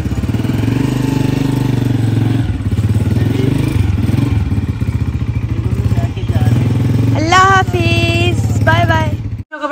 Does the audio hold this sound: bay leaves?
no